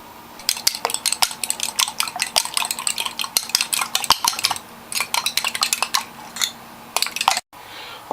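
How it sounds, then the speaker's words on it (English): Rapid irregular scraping and clinking of a pastry cutter or utensil against a bowl while butter is cut into a flour, salt and sugar mixture for challah dough, busy and close with a brief pause near the end. "I'm cutting the butter into a flour, salt, sugar mixture"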